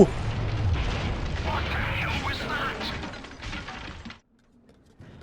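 An explosion in Dying Light sounds as a loud, broad boom that rumbles for several seconds before cutting to near silence, with a voice briefly audible.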